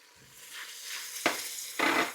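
Minced garlic sizzles softly in a hot pot for a pot roast, with two sharp stirring scrapes of a utensil against the pan over a low, steady frying hiss.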